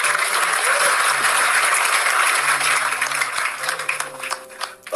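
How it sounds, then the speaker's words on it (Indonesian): An audience claps in applause at a talk by Cak Nun, a dense, steady wash of clapping that thins and breaks into scattered claps toward the end, with faint voices beneath. "Ya, tepuk tangan sekali lagi ya."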